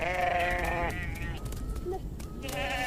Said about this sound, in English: the Amhara also maintain herds of cattle, sheep, and goats